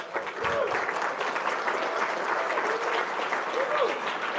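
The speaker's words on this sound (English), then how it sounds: "this will be a lot of clapping tonight." An audience at an awards ceremony claps steadily for several seconds. The applause is even and dense, with a faint voice or two under it.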